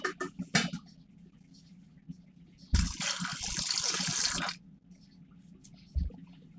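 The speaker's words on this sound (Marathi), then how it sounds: "थोडं मी पाणी घातलं याच्यामध्ये।" Water gushes into a pot of rajma and small potatoes in one close pour lasting about two seconds, framed by clinks and handling sounds before and after.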